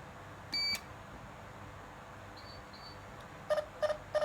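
A 433MHz wireless home burglar alarm system sounds off with a short electronic beep, two faint chirps, then three quick repeated tonal beeps near the end, fairly close and clear over a quiet room.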